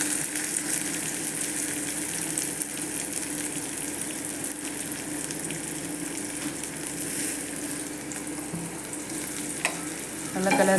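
Chopped onion, tomato, green chili and crushed garlic frying in a pan, a steady close sizzle with scraping stir strokes, continuous and alone without talk, a few sharper clinks of the spoon near the end.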